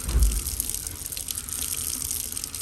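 Water runs from a tap in a steady, close gushing stream, with no talk over it.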